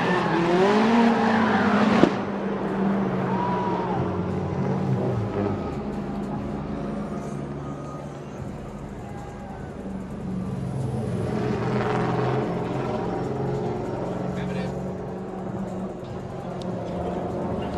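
Drift cars battling at a 2015 Formula Drift Long Beach final-four round, engines roaring loud and continuous with rising and falling revs, tires squealing, and a faint announcer voice underneath.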